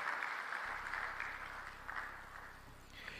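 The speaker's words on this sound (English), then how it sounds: "Can we once again put our hands together?" An audience in a conference hall at an African coffee-producing countries summit applauds, a steady wash of many clapping hands heard faint and far off.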